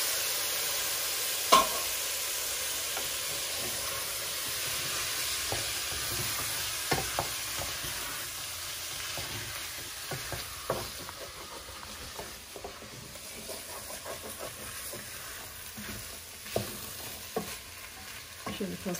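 Beans and tomato paste sizzle steadily in a pot while being stir-fried, a constant frying hiss broken by occasional scrapes and clacks of the spoon against the pot.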